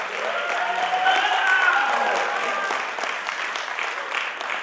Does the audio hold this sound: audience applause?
yes